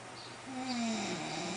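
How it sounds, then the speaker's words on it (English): Snoring from a person asleep, one drawn-out nasal snore rising midway and trailing off, close and fairly quiet with faint room noise. "Snore."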